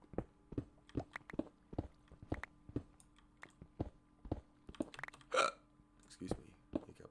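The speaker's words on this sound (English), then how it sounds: "Excuse me, hiccups." Repeated hiccups, about a dozen sharp short gulps coming at a fairly steady rhythm, close and fairly quiet, with one longer vocal sound in the middle and light speech-like noise between them.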